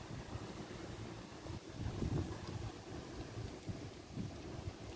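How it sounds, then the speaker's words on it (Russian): Strong wind roaring steadily into the microphone, a dense blustery rush with gusts swelling and easing, no voices. "Ветер сильный."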